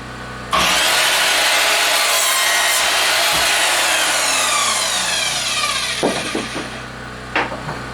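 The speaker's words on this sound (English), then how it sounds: "We're just going to go ahead and cut the ends off of this real quick" Someone hand-saws the ends off a wooden board, close and loud, with steady rasping strokes running continuously for several seconds before a few knocks and a scrape at the finish.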